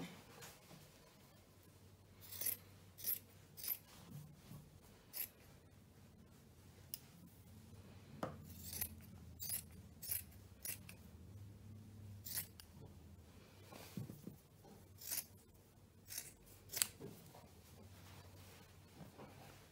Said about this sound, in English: I'm going to go ahead and start at 7 and cut all the way across.